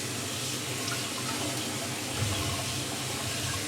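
Hot water runs steadily from a tap into a pot for washing rice, a constant soft splashing hiss at low volume with no pauses.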